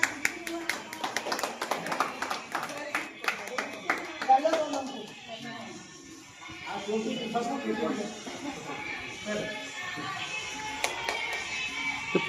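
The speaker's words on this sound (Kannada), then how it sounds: "ಚಪ್ಪಾಳೆ." An audience claps at an indoor gathering, with scattered, fairly close handclaps that build into bursts and continue beneath talking voices.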